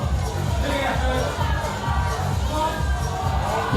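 A crowd at a competition keeps up a dense, steady roar of cheering and shouting, with children's voices mixed into the babble, loud and continuous throughout.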